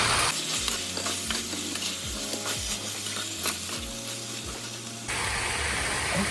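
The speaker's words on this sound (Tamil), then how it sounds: "வறுக்கிற புதினா வைக்கணும்." Mint leaves fry in oil for Chettinad chicken biryani, crackling steadily while a spoon scrapes through them in repeated rhythmic strokes. Near the end the sizzle swells into a louder, even hiss.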